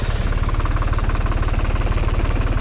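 The fan engine of a Holsan Can20 orchard sprayer, towed by a Same Frutteto tractor in a vineyard, runs loud and steady at low speed, with a fast, even mechanical pulsing throughout and no voices.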